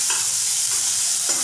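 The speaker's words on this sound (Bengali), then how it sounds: "পেঁয়াজ তেলের মধ্যে দিয়ে একটু নাড়াচাড়া করে নেব।" Onions frying in oil in a home kitchen pan as they are stirred, a steady bright sizzle running throughout with a few soft scraping strokes of the spoon, close and alone with no talking.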